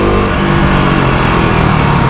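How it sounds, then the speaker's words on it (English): Road traffic heard up close, a loud, continuous engine drone and tyre roar with harmonic hum, steady for a couple of seconds with no voices. "This traffic is killing me."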